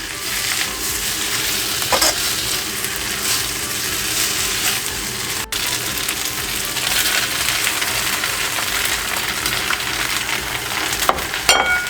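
Pad see ew noodles stir-fried in sauce in a hot pan produce a loud, continuous hissing sizzle with scraping and tossing sounds, occasional sharp clanks, and no talking.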